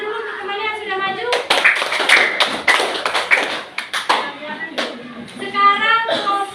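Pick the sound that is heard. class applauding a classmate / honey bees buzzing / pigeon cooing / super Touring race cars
class applauding a classmate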